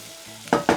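Two quick bursts of vegetables sizzling and being stirred in a hot pan, close up, after a faint hiss.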